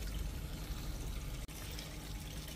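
Tap water runs steadily over raw chicken being rinsed in a home kitchen, an even, continuous splashing stream with one brief break midway and no talking.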